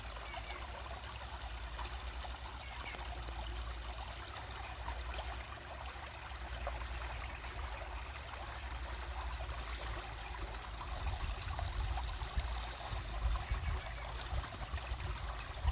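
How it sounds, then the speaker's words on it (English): A small waterfall rushes and splashes outdoors, a steady broadband wash of moving water that grows slightly louder and more turbulent toward the end, with no talking. "Not a bad little waterfall, raging just a little bit."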